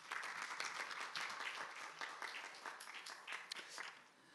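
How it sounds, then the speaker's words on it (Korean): A hall audience at a smart manufacturing engineering performance-sharing event applauds steadily, a dense wash of many hands clapping that holds for several seconds before tapering off. "여러분 큰 박수 부탁드리겠습니다"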